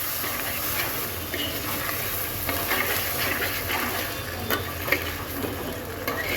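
Rice, green chillies and mixed vegetables frying together in a pan, a steady soft hiss and sizzle with occasional stirring scrapes, continuous and fairly quiet throughout.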